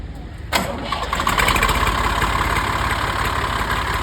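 A 1997 Massey Ferguson 240 tractor engine cranks and catches, then settles into a loud, steady diesel idle close by.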